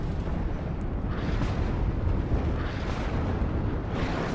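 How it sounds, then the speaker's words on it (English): Incoming artillery and explosions from the Cold War strategy game WARNO form a dense, continuous barrage of loud rumbling blasts and booms with no pauses. "Lots of artillery coming in."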